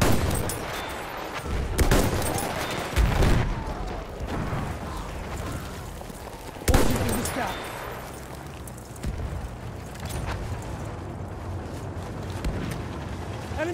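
Sustained bursts of machine gun fire and explosions rumble through a wartime battle video game featuring Lee-Enfield rifles, dense and loud throughout with heavy impacts.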